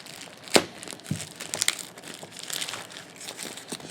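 Plastic packaging around a pair of rechargeable heated socks crinkles and crackles close up as it is pulled open, in irregular bursts with a few sharper crunches.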